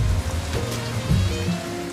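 Steady monsoon rain pouring down in Delhi, India, a continuous dense wash of falling water on surfaces with no talk.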